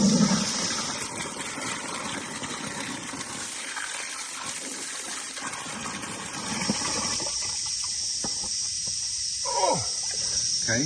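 Water sprays and gushes steadily onto compost in a worm farm, then trickles and splashes at the end.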